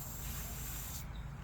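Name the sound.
aerosol spray can hissing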